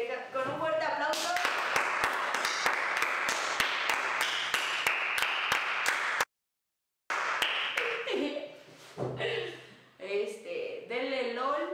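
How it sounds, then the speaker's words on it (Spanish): Indoor clapping by a few people close by, rapid bright hand claps under talking and laughter, with a brief silent gap before a looser closing stretch. "Nos despedimos con un fuerte aplauso."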